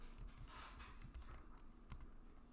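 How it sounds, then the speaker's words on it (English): Fingers type on a computer keyboard in a quiet room, a soft, steady run of close key clicks with uneven spacing. "I'm going to hit cap locks, and I'm just going to type his name, Captain"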